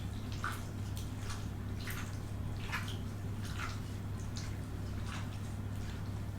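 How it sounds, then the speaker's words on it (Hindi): Raw chicken pieces, mixed with salt and vinegar, are rinsed with water in a kitchen: continuous splashing and trickling with soft drips, close and fairly faint, over a steady low hum. "और इसको मैं अब ये वॉश कर लूँगी फ़ौरन पानी से।"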